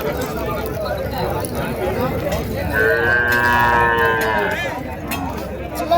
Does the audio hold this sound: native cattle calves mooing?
yes